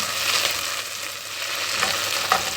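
Flour stirred into roasted tomato paste for tomato soup, a close, continuous frying sizzle with soft scraping stirs and small pops, no voices.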